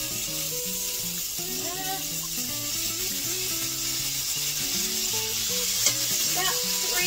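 Minced garlic sizzles steadily in a hot pan for homemade pizza sauce, a constant bright frying hiss with faint background music underneath.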